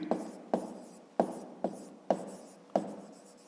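Handwriting with a pen on paper, six rhythmic scratchy strokes spaced about half a second apart, close and clear with no talking.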